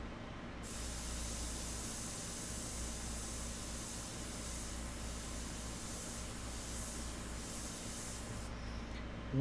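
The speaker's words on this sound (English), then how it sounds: "Remember, if you keep moving when you are using the airbrush, you will have a lot more control." An airbrush sprays India ink in a continuous soft, even hiss that lasts about eight seconds and then cuts off. The sound is close and quiet, with no voices.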